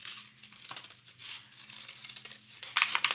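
Scissors cutting through a paper plate for a hedgehog craft, giving irregular crisp snips and crinkling paper sounds, close and fairly quiet, louder near the end, with no talking.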